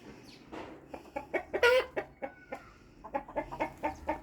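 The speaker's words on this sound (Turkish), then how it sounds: "burada tavuklar yem bekliyorlar galiba" Chickens clucking in short, repeated bursts close by, with a few louder squawks in the middle and quiet stretches between.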